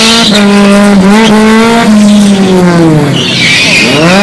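A race car at a racing event, its engine very loud and close, revving and shifting pitch in sweeping rises and falls, with a tire squeal toward the end.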